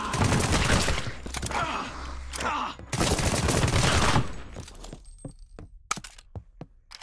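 Heavy bursts of gunfire in Apex Legends, loud, dense volleys for the first few seconds that give way to scattered single cracking shots and thuds, close and punchy, with no talking over it.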